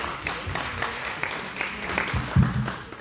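A church-affiliated business fellowship gathering in Incheon (CBMC Korea conference) breaks into brief, moderate applause from a seated audience, a spread of claps with a couple of heavier thumps, with some voice mixed in.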